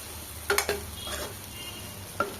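Green beans cooking in oil in a pan give a low, steady sizzle, with a few sharp clinks of a utensil stirring against the pan near the start and once more near the end.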